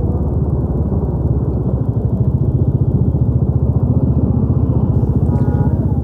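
Several Jawa motorcycles idle together during a group ride, a steady, loud, throbbing engine rumble with a fast even pulse that continues throughout, no talking over it.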